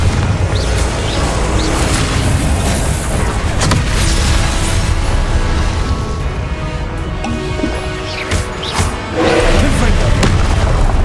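Deep, booming explosions from the Confringo blasting spell in Hogwarts Legacy, loud and rumbling under a dense layer of combat noise, with a heavier blast near the end.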